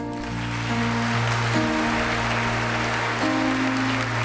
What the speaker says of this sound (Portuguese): Vamos aplaudir de novo.